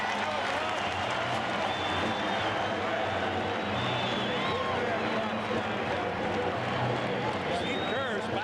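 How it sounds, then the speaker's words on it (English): A packed basketball arena crowd at the United Center roars during a 1997 Bulls versus Heat playoff game, a sustained wash of cheering and noise with a commentator talking over it. "This crowd is up, and they love it here at the United Center"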